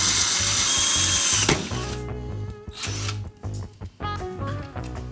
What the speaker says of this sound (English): After you make your hole with your drill,